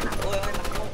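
Gunfire in the Marvel Rivals video game, a rapid run of evenly spaced shots in a short burst, loud and close, with no talk over it.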